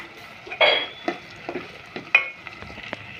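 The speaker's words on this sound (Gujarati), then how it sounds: "હવે એ બધું મિક્સ કરી લઈશું, આમ હલાવીને ધાણા જીરું, મીઠું, હળદરને" A spoon stirs coriander-cumin powder, salt and turmeric in a pan, giving a few soft scraping strokes and light clinks at irregular intervals, fairly close and quiet.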